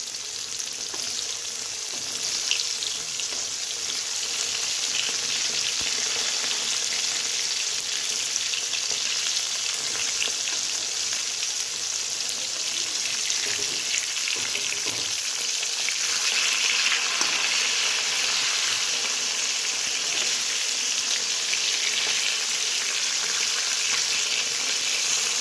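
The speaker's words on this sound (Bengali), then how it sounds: "আমার মাছগুলো একটা সাইড করে ভাজা হয়ে গেছে।" Bhetki fish pieces frying in hot oil, a continuous loud crackling sizzle that holds steady throughout, with no talking.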